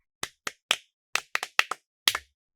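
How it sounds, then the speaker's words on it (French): Sparse classroom applause, a handful of separate sharp hand claps in an irregular rhythm, close and fairly quiet, with no talk. "Pouvez-vous applaudir pour Gift?"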